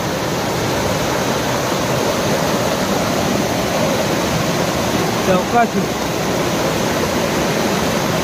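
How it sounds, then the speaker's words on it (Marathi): Loud, steady rushing of a full river in rain, a continuous roar of water with a brief voice breaking through midway. "नदीला पाणी भरपूर आहे आणि आता पाऊस पण चालू झाला आहे"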